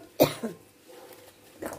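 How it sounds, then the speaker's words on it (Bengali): A single sharp cough rings out, followed a moment later by a smaller second cough, then a brief quieter breathy burst near the end, in an indoor home kitchen setting with a quiet background. "খুব কাশি এসে গেছে"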